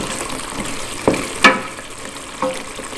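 Chicken feet, necks and heads being stirred in a pan of oil and reducing liquid, with a steady sizzle and a few sharp scrapes and clacks of the utensil, no voices.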